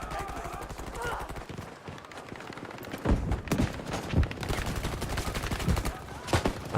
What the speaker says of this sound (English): Not sure why the guy's shooting at us.